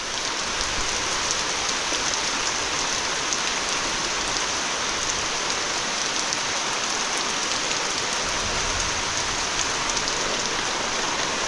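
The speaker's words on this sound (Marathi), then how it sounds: "म्हणजे पावसाने जोर चढवला आहे." Heavy monsoon rain pours down in a village, a dense, steady hiss of drops striking surfaces that stays loud and unbroken throughout.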